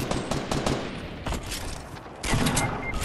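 Assault rifle fire in Fortnite, fast bursts of rapid shots from a close firefight, firing in clustered volleys with a short lull before a heavier burst near the end.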